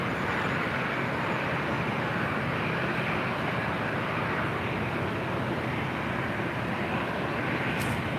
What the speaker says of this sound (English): And a little turn and burn action for Zippy, now rolling down at 24 left.